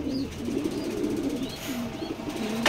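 Racing pigeons of pedigree stock coo softly in repeated low calls, a steady murmur of several birds close by with faint chirps over a constant background hum, no talking.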